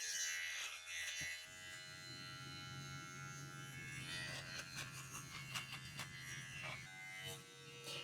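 An all-in-one waterproof men's beard trimmer buzzes steadily and close while cutting through facial hair, its high whine holding for about eight seconds with slight shifts in pitch as it moves.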